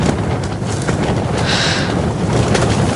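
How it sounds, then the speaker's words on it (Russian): Strong wind gusts over snow-covered ice during winter ice fishing on a frozen pond, a steady, loud, rushing roar that buffets the microphone and persists throughout, with no talk. "Там ветрище вообще сдувает, метет."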